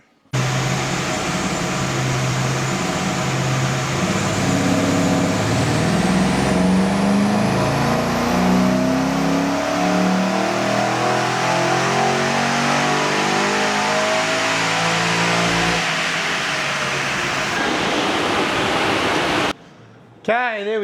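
An LS3 V8 car with a manual gearbox and Torque Master camshaft revs hard on a rolling dyno, a loud sustained engine roar rising steadily through the gears for nearly twenty seconds before cutting off abruptly.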